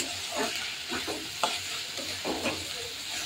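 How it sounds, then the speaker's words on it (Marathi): Onion and green chilies frying in oil for a chapati chivda, stirred several times: steady close sizzling with rhythmic scraping strokes against the pan. No talk. "नंतर मी कांदा व हिरव्या मिरच्या दोन्ही एकत्र तेलामध्ये परतायला टाकल्या."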